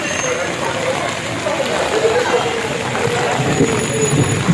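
Evening rain falls in summer heat at a spot with a passenger waiting shelter, a steady wash of patter that continues under an ongoing voice.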